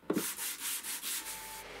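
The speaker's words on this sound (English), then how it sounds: "then I did some final sanding" Steady scratchy sanding of a wooden beam compass in repeated back-and-forth strokes, close up and moderately loud, with a brief knock at the start.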